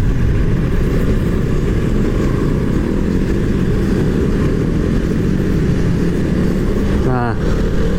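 A Piaggio MP3 300 hpe Sport three-wheeled scooter rumbles steadily up close while riding, its engine droning broadband throughout with wind buffeting, and a brief rising whine near the end.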